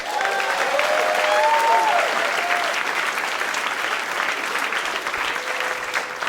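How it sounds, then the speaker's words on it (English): A comedy club crowd at Helium Comedy Club in Portland, Oregon bursts into dense, steady applause, loudest at first and then easing slightly, with scattered whoops mixed into the clapping. "Everybody clap nice and loud for a very funny man named Ryan Connor."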